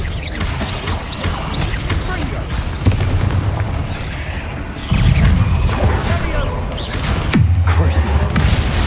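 Confringo spell blasts in Hogwarts Legacy, several booming impacts with deep rumbling tails that arrive in irregular succession amid busy combat effects, loud and close.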